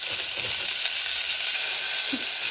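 Onions and potatoes frying together in a hot pan, a steady close bright sizzle and hiss with faint stirring clinks, no voices.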